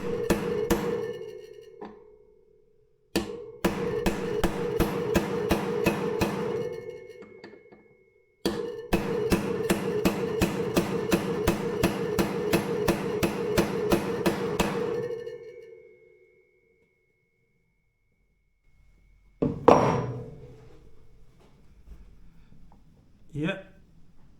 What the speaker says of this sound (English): put a socket on the edge of the bearing again. Tap this in lightly to get started.